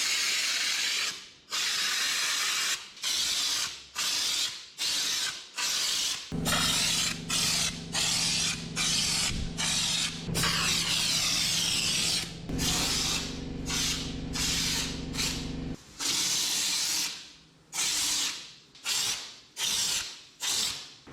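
Paint spray gun applying paint inside a 1961 station wagon's interior, heard as repeated hissing bursts of a few seconds each, with a longer steady spray run in the middle, close and loud, with no talking.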